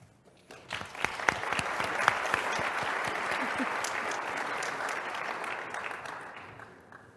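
A room at a Canadian Club Toronto outlook event applauds its panelists, a few early claps swelling into a broad, sustained wash of applause that holds and then begins to thin out.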